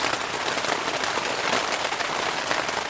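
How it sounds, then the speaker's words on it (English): Steady rain falls on a tarp shelter in a forest wilderness park, a dense, continuous patter that stays even and close throughout with no talking. "Well, it's raining."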